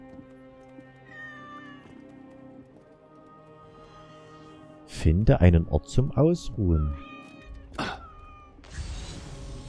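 A cat meows several times in the game Assassin's Creed Origins. The meows are close and clear, mixed with a German-speaking voice and quiet background game music.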